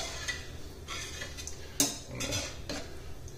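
Broth and cream being stirred into a pan with a utensil, giving soft scraping and clinking against the metal, with one sharper knock partway through; no talking.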